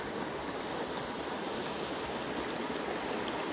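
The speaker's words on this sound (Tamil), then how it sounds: "இனிமேல் நம்ம கொஞ்சமாக தண்ணி ஊற்றிக்கலாம்." Water is poured into a pot of spicy chicken gravy, a steady, continuous rushing and splashing wash that stays even and fairly loud throughout, with no talk.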